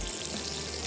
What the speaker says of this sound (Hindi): थोड़ा सा और पानी शामिल कर देते हैं और इसको उबलने देते हैं।